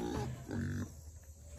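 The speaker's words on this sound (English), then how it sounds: "Pigs." Pigs on a homestead give short, low grunts close by, quiet and fading out after a second.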